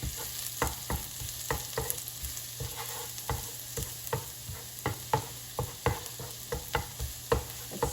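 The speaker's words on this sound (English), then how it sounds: "So add garlic and stir" Minced garlic sizzling in melted butter for hibachi steak, with a spatula scraping and tapping the pan in a steady irregular rhythm over a constant frying hiss, close and clear with no talk.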